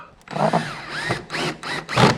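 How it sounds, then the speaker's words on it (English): Cordless drill fitted with an extension driving screws into a budget chicken coop, close and loud, in several whirring bursts separated by short pauses. "if you don't have an extension on your drill, it doesn't want to get down in here good"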